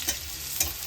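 Garlic sizzles in hot oil in a pan for a masala baingan dish while a utensil stirs it, giving a short hiss with two soft scraping touches close by and no voices.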